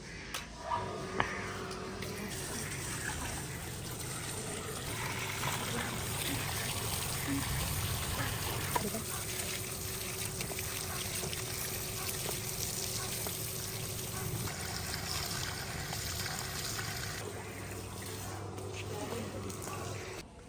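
Water trickles and splashes steadily while coriander, mint and cucumbers are washed in a basket in a village kitchen, a continuous close wet rushing sound with occasional small clatters.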